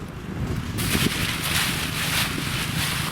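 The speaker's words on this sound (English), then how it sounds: "Hope we ain't picking the wind up too bad, guys." Wind buffets an outdoor microphone on an early November morning, a loud, continuous roar that swells sharply after the first moment and stays dense throughout, with no voices.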